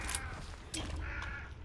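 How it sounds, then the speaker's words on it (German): Crows in the video game Hunt: Showdown give two short, faint caws about a second apart, with low rumbling ambience beneath. "Hey, nicht die Raben schießen."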